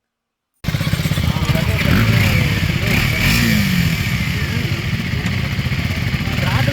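KTM Duke motorcycle ridden on an off-road dirt track, engine droning steadily and loud from start to end after a brief silent opening, with voices talking faintly under it.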